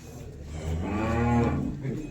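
A cow gives one long, loud, close moo that swells in the middle and fades out, with no voices.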